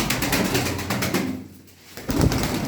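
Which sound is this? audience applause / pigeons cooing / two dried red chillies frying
pigeons cooing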